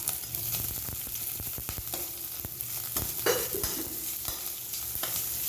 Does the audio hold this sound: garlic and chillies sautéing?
yes